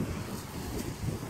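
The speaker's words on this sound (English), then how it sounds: "Ooh, it's windy." Outdoor wind buffets the microphone in a steady low rumble for about a second, moderately loud, with no voices.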